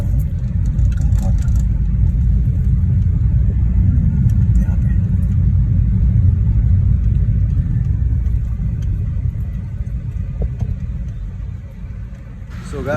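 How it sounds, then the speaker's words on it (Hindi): A car idles and rolls slowly while being parked at Aksa beach, its engine giving a steady low rumble close by that eases off toward the end. "इधर गाड़ी पार्क कर देता हूँ।"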